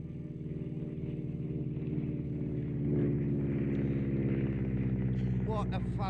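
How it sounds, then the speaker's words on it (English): A red Beech Staggerwing biplane with a 450 hp nine-cylinder radial engine drones smoothly overhead, a steady throbbing hum that rises slightly midway, with a voice speaking over it. "It is indeed a lovely 450 horsepower, 9-cylinder radial engine just purring through the sky."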